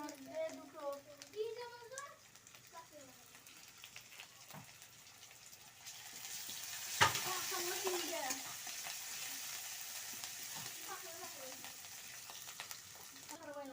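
Onion paste and garlic frying in a pan for rui fish curry, a soft steady sizzle that swells into a louder hiss midway, with children's voices chattering in the background.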